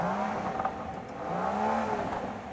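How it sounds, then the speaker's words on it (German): A Rolls-Royce Cullinan's 12-cylinder, 600 hp engine revs at full throttle, producing a steady, moderately loud drone that rises and falls in pitch, with no talking. "Auch dem Cullinan gebe ich nicht mehr als 5 von 10 für den Sound."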